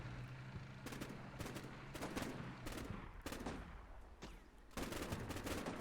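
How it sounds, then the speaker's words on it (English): Gunfire crackles through an urban combat video game battle, with repeated sharp shots in bursts and scattered single cracks over a steady low rumble and background din, close and loud. "Our sniper is suppressing him as well."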